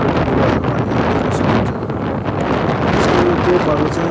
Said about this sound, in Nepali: र हावा एकदमै चलिरहेको छ।